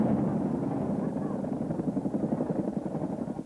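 A rescue helicopter used in the 1996 Central Pennsylvania flood, its steady rotor thump loud and continuous throughout as a narrator talks over it.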